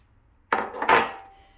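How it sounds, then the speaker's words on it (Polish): Soaked beans are poured into a metal cooking pot for a hamin (cholent) stew, a short close clattering rush of hard beans striking the pot, alone. "wsypujemy ją do garnka"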